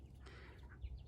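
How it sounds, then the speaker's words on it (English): A chicken in a compost heap gives a brief, soft cluck, quiet and close against a low background hum. "We got some chickens in the compost."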